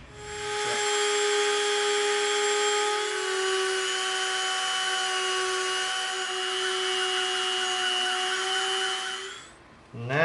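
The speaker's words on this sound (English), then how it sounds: "Now we're going to Dremel out a trench." A Dremel rotary tool carves a trench into EVA foam, a close, high steady whine with a slight pitch drop as it bites into the material, then spinning down near the end.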